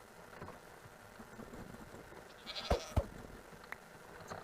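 A goat in a Minecraft multiplayer game gives two short, close bleats in quick succession over a low background drone, followed by a faint clicking sound.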